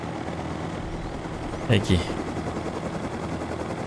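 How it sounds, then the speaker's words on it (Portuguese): Helicopter flying in the video game Rust, a continuous rotor drone filling the background, with a brief louder burst near the middle and someone speaking over it. "Nossa, esse helicóptero aqui que deu uma mão na roda, hein, mano."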